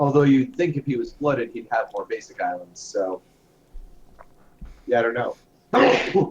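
A sharp sneeze bursts out near the end, close and loud, following stretches of casual conversation among players at a competitive Commander card game table.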